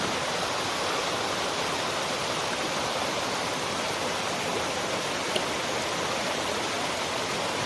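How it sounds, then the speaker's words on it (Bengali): Waterfall cascading over rocks on a trip around Tanguar Haor in Sunamganj, a dense, steady roar of rushing water, loud and unbroken throughout with no voices. "এবং ঝর্ণার শব্দ আপনারা শুনতে পাচ্ছেন।"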